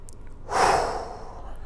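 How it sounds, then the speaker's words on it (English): A single deep breath from the belly during a golf fitness stretching workout: one soft, close, airy exhale lasting about a second, heard alone. "Still breathing nice and deep from the belly."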